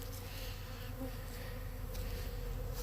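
Honeybees foraging for pollen around a hive frame hum faintly but steadily, a soft continuous buzz of several insects close by with no talking.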